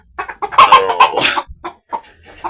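A Silkie bantam hen clucks loudly and close by in a run of short, sharp calls with brief pauses between them.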